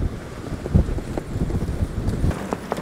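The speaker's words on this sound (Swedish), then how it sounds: "Det blåser jättemycket. Fladdrar i parasollet." Strong wind buffets a parasol aboard a small boat out on the water during perch fishing, a dense rushing roar with irregular flapping thumps and gusts, close to the microphone and loud, without any voices.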